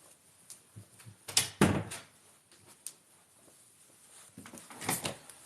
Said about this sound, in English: Let me close my door real quick so my dog doesn't quit acting a fool.